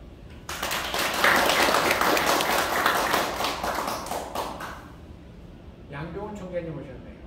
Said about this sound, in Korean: 두 분을 위해서 우리 박수 한번.